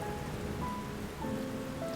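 Steady rain falls as a sound effect in a Hindi audiobook set in Soho, London, in 1782. The hiss is even and continuous, with faint tonal sounds running through it.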